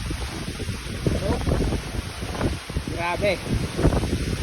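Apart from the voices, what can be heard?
strong wind during typhoon Marce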